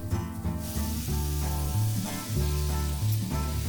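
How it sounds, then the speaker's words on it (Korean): Vegetables stir-frying in a hot pan, a steady close sizzle and hiss under prominent background music, with no talk. "집에 있는 채소를 취향대로 골라 볶아주고요"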